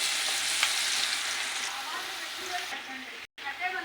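Cumin seeds, dried red chilies and garlic sizzle and crackle steadily in hot oil for a tempering, a dense close frying hiss with a few stirring sounds and a brief cut near the end.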